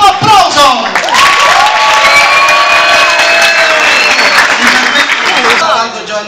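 Convention audience at the Etna Comics 2017 comic convention applauding and cheering in a dense, steady wash of clapping with whoops and shouts mixed in, loud and close throughout.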